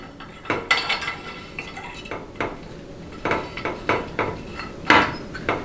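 Metal clinks and taps sound as a pressure regulator valve is inserted into a 62TE transmission valve body, a string of sharp, close knocks and light scraping at an irregular pace, with short quiet gaps between hits.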